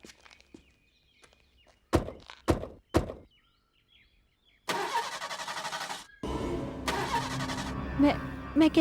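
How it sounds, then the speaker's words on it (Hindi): A car door or two thump shut and a few soft steps sound, then a car engine cranks loudly in long grinding bursts that do not catch, near and continuous to the end. "मैं जानती हूँ ये गाड़ी स्टार्ट नहीं होगी।"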